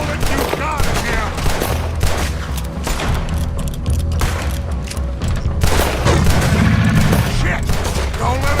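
Dense, continuous gunfire from Red Dead Redemption 2 on PS5, overlapping shots forming a loud sustained volley that keeps up throughout, with game voices faintly mixed in.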